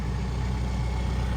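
A T574 tractor with a hydrostatic drive, moving and spreading gravel, runs with a steady, loud, close engine rumble throughout, without any talk.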